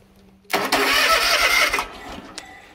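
A starter motor on a Ferris ProCut S series mower cranks the engine after its solenoid is jumped with a screwdriver: a loud, steady whirring crank lasting about a second and a half, then stopping, with a faint click afterward.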